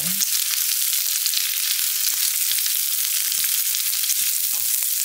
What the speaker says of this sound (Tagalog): Tsaka ilagay na rin natin yung ating pamintang buo. Ayan. Haluin lang natin siya.